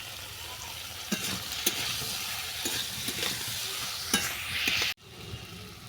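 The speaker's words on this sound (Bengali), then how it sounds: "সবজিগুলো আমি 5 মিনিট ধরে ভালো করে কষিয়ে নিয়েছি।" Mixed vegetables for a vegetarian Bengali panch misali torkari being stirred and sautéed in a pan, a steady close sizzle with scraping stir strokes every second or so, then a sudden drop to a quieter hiss near the end.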